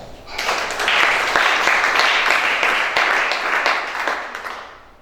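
A church congregation applauds together, a sustained dense wash of clapping that swells quickly, holds steady, then fades out toward the end.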